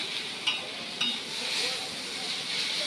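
Chow mein stir-fried in a pan at a cheap canteen sizzles loudly and steadily, with a couple of sharp clanks of a utensil against the pan early on.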